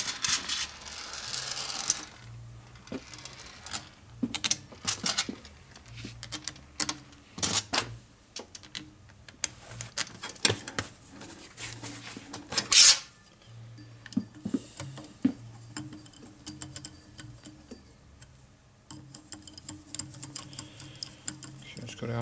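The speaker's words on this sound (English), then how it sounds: "I have a special 12-point socket here to work on these." Ratchet with a 12-point socket on a 1992 Harley FXR Evolution 88ci motor, giving scattered bursts of close clicking and clattering metal with brief pauses between turns.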